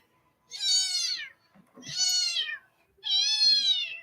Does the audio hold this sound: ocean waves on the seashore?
no